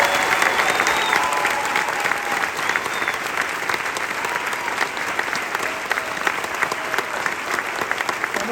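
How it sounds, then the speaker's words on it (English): Sustained applause from a large Broadway theatre audience at a closing-night curtain call, steady clapping filling the whole stretch without letting up. "Please give them a round of applause."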